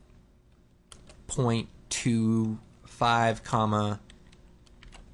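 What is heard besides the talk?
typing on a computer keyboard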